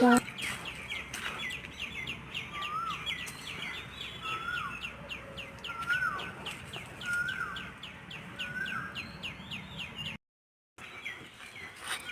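Morning birdsong in a village: one bird repeats a clear, bright chirp about every second against a busy backdrop of smaller tweets and soft background noise, with a brief dropout near the end.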